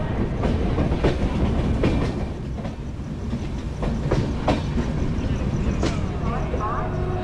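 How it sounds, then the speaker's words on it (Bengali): The Darjeeling Mail passenger train pulling out of Kishanganj station and running on; a steady, loud rumble fills the scene, with rhythmic clickety-clack of wheels over rail joints recurring every second or so. "আমাদের ট্রেন এই কিষানগঞ্জ স্টেশন ছেড়ে বেরোলো"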